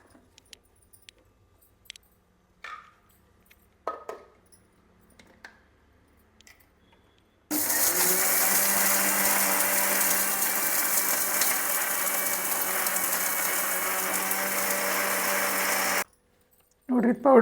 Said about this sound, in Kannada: ಸರಿಯಾಗಿ ಮಿಕ್ಸ್ ಮಾಡ್ಕೊಂಡು ಈ ಮಿಕ್ಸಿಗೆ ಹಾಕ್ಕೋತೀನಿ ಇದನ್ನ.